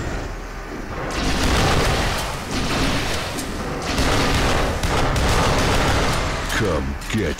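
Rapid gunfire and booming blasts in the Duke Nukem Forever video game fill the scene loudly and continuously, with short bursts and heavier explosions layered over each other.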